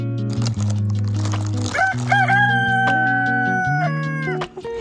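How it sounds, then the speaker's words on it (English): Backyard chickens call loudly and up close. Drawn-out, rising and falling crowing-like cries run over a steady low hum, with no talking. "I totally forgot to show you guys the chickens, so here they are."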